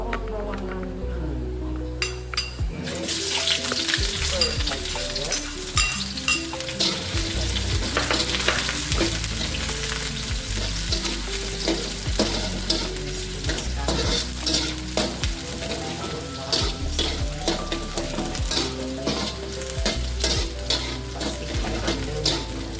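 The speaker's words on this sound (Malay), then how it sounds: "Okey, kita letakkan bawang-bawangan dulu." Onions sizzle and fry steadily in a pan while being stirred for a cauliflower and mushroom dish, with occasional utensil clinks against the metal and background music throughout.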